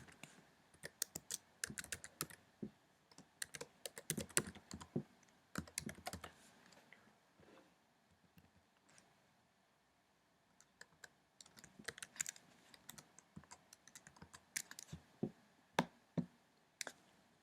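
Computer keyboard typing in bursts of quick, crisp key clicks, with a pause in the middle before the tapping resumes, close and fairly quiet with no voices.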